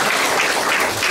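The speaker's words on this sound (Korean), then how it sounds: "앞으로 더 잘해달라고 박수 좀 보내주세요" Audience applause at a Korean county policy briefing, a dense, steady wash of clapping from a crowd that fills the whole short stretch at even loudness.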